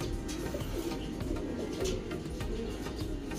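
Pigeons cooing inside a racing pigeon loft, a steady layered murmur of low coos and soft wing and body movement filling the space, close and continuous with no speech.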